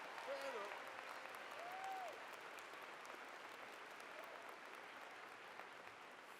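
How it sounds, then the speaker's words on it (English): A convocation audience at the University of Calgary gives a full round of applause for the name readers, a steady, fairly distant wash of clapping with a faint voice briefly over the start. "a special full round of applause for our name readers"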